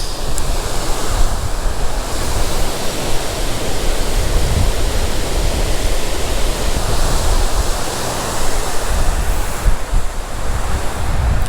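Water rushes loudly at a Champlain Canal lock beside a hydroelectric plant, a dense, constant roar mixed with wind buffeting the microphone, with no voices.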